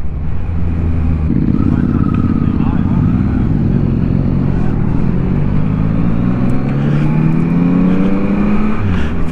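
A Yamaha motorcycle with a quick shifter rides on the road, its engine droning loud and close with rising pitch sweeps as it accelerates and shifts up through gears.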